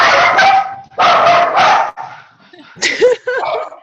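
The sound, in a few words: small dog barking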